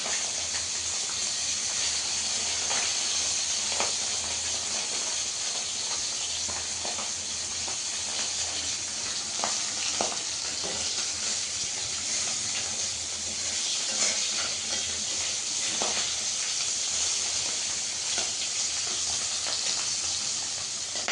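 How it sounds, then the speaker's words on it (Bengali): Food frying in a pan at home, a continuous even sizzle and hiss of hot oil with faint scraping, no talk over it. "চলো সুন্দর করে ভাজা হয়ে যাক।"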